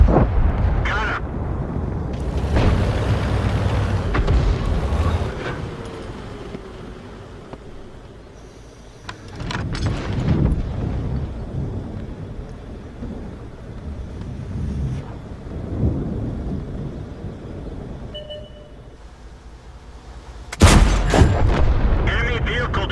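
Tank cannon shots and shell hits in a video game with an M56 Scorpion, a string of booming blasts and impacts spread across the span, loudest near the end, with a voice talking between them.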